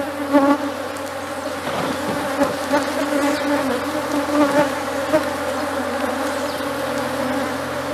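Dense, close buzzing of many honeybees stirred up from a strong ten-frame hive as it is split into a new nucleus, a continuous droning hum with scattered louder passes and no talk.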